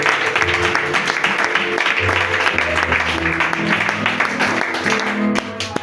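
A church congregation applauding the Lord, with steady, dense clapping from a crowd in a hall, loud and continuous, with voices mixed into the applause throughout.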